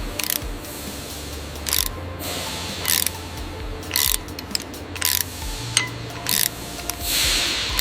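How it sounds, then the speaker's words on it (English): A ratchet tightens a bolt on a yellow school bus on a factory line, sounding as a run of short mechanical clicking bursts spaced about a second apart, close and fairly loud over a low industrial hum, with no talking. "Make sure that bolt is fully tightened. Just another turn."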